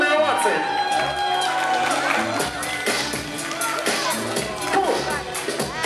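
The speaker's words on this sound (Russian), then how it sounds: "Под ваши бурные овации!" Crowd at a kids' breakdancing cypher battle cheering and whooping loudly, a dense continuous roar with bursts of shouts and some clapping mixed in, while a voice speaks over it.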